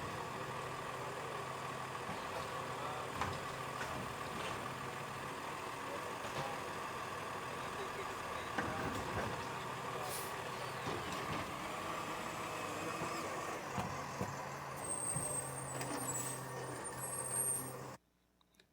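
A garbage truck lifts and empties a bin with its arm while its engine idles loudly and steadily, with hydraulic clanks and a hiss of air brakes, then the sound cuts off abruptly at the end.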